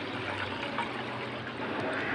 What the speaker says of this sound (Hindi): अब बाउल में हम लेंगे 4 कप पानी